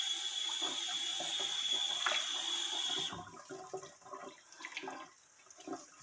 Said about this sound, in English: So we're going to go ahead and rinse our cabbage off.